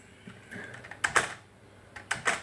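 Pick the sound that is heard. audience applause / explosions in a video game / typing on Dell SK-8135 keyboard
typing on Dell SK-8135 keyboard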